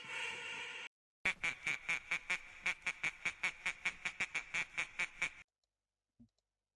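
A duck quacks in a steady run of about twenty evenly spaced, nasal calls, close and fairly loud, after a short burst of other sound and before silence.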